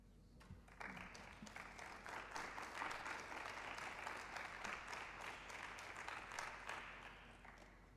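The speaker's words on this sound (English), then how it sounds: "Can we please give another rousing round of applause?" Sustained applause from a church audience after a sermon, a dense steady wash of many hands clapping that starts abruptly, holds evenly and tapers slightly at the end.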